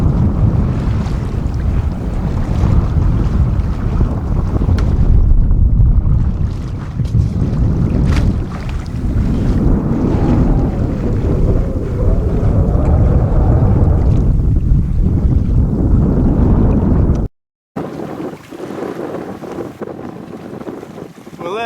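The sailboat Mingming II under way in a leading wind, with loud buffeting wind gusts and rushing water along the hull, continuous and close, then dropping abruptly to a quieter wash near the end.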